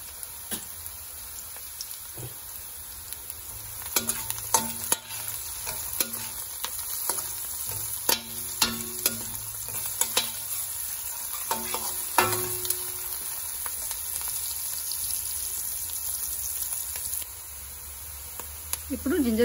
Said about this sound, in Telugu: ఆనియన్స్ ఫ్రై అవ్వాలి.